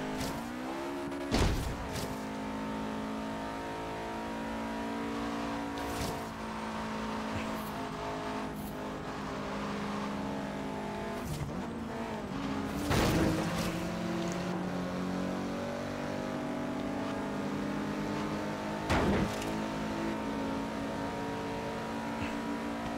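In a Hot Wheels racing video game, a Subaru WRX rally edition's engine revs and drones continuously, its pitch rising and falling with gear changes, punctuated by several sharp impact bursts.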